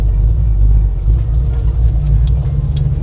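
A 1972 Monte Carlo with a built-up Blueprint engine cruises at low speed with a deep, steady, close engine rumble. There are a few faint clicks and rattles, and no voices.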